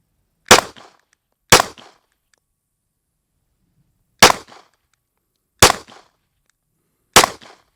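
Five sharp pistol shots fired at a firearms qualification range, spaced irregularly with a long pause between the second and third, each a loud isolated crack with a brief decay and silence between.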